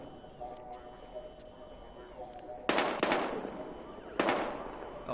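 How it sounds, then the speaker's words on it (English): Gunshots in a PS4 video game firefight, two sharp, loud bursts standing out over a steady low background hum, each with a brief ringing tail. "We've got gunshots. We're engaging."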